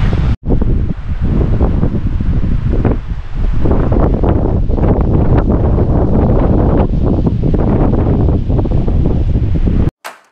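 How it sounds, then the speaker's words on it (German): Strong wind gusts roar at a beach on Île de Ré on France's west coast, a loud, continuous rush battering the microphone with faint surf beneath, then cutting off abruptly near the end. "Hier pfeift der Wind, mein Lieber."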